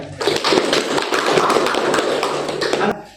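Applause breaks out in a classroom: a dense burst of many hands clapping together, loud and close, lasting about three seconds before stopping abruptly.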